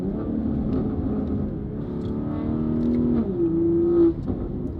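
BMW G42 M240i with a B58 engine and Valvetronic Designs exhaust, a deep steady idle burble that rises into a short rev, climbing in pitch and peaking loudly near the end.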